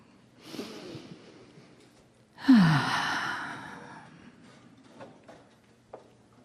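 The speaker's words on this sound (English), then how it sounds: "So let your body relax. Take a breath." A person draws one long, deep breath in a calm meditation setting, a brief rising inhale followed by a slow audible sigh of an exhale, close and clear against near silence.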